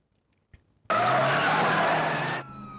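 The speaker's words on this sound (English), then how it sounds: "It's the cop car chase scene through the mall. There's a lot of crashes, cars crashing through" A car chase through a shopping mall in the 1980 film The Blues Brothers: after a short thump, a car's tires screech in one loud sustained skid lasting about a second and a half, then ease off under engine noise.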